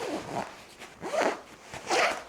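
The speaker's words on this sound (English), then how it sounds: "Once it's in your bag, it's ready to zip up." Three quick zipper pulls close a fabric bag holding a folded changing tent, close and crisp, each rasping stroke about half a second, with no talking.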